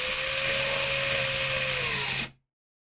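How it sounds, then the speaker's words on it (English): A power drill whirs steadily at high speed, loud and close, drilling for a carbon fiber bumper protector install, its pitch dipping slightly under load before it cuts off abruptly. "I like to reverse the drill"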